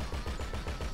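Explosive jet bullets firing in GTA 5, a dense continuous rattle of rapid gunfire with repeating heavy thumps, loud and close throughout, with no voices over it.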